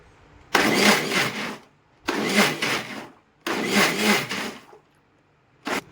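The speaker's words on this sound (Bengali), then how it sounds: "এবার এটা আমি মিক্সিতে পেস্ট করে নেব।" A mixer grinder blends raw mango with powdered sugar in three loud whirring bursts of about a second each, with short silent pauses between them. A fourth burst starts right at the end.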